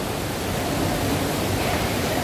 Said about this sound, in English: There's a big waterfall over there to the distance.